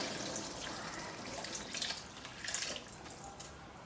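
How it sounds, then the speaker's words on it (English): Water is poured into a pot of simmering ragù Bolognese meat sauce, giving a steady splashing hiss with bubbling and sizzling that rises and falls for a few seconds. "So what we do is we add water."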